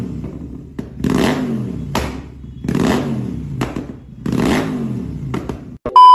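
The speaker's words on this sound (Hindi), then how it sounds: "तो सबसे पहले है रेड रोस्टर परफॉर्मेंस एग्जॉस्ट" A Royal Enfield Continental GT 650 fitted with a Red Rooster performance exhaust revs in four loud, close blips, each rising and falling with a sharp crackling edge, separated by idle pauses.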